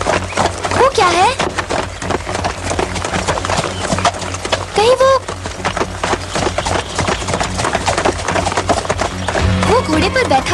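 Horse hooves clip-clop steadily as a boy rides past, a moderately close rhythmic beat running under dialogue and background music in a 1996 Cinderella TV series scene.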